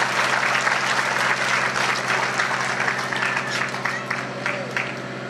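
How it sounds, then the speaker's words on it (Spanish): A crowd at a taekwondo school graduation ceremony in San Pedro Pochutla gives warm, sustained applause for the technical director, steady clapping over a low constant hum that fades slightly toward the end. "Vamos a brindarle fuertes y calurosos aplausos."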